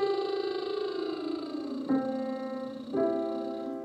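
A single sustained voice sings a vocal warm-up slide starting on middle C, gliding up toward G and back down in smooth connected pitch changes, alone and close.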